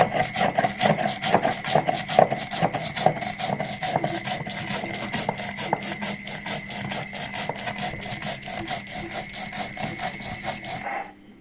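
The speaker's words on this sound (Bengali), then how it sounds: "এখানে আমি সব কালো সর্ষে সাদা সর্ষে একসঙ্গে বেটে নেব, ওর সাথে আমি পোস্তটাও দিয়ে দেবো" Black and white mustard seeds ground together with poppy seeds in an electric grinder, a steady whirring motor with rapid rhythmic rattling that runs for about eleven seconds and then cuts off.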